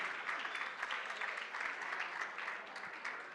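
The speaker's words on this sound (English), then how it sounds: "Again, I want a massive round of applause for Oliver." A conference audience at a Bitcoin event in Medellín claps steadily for a few seconds, a dense, even wash of applause heard faintly from a distance.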